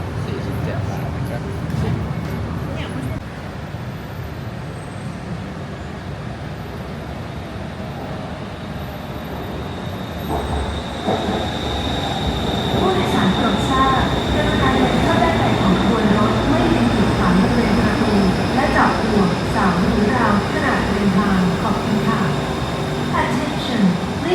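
A metro train runs between stations in Bangkok, a steady rumbling drone with rising wheel and motor noise in its second half, heard from inside the car with an announcement voice over it.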